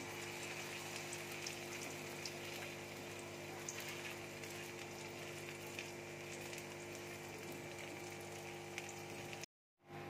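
Batter for paneer chilka sizzling and crackling steadily in hot oil in a kadai, a dense, continuous frying hiss that cuts off abruptly near the end.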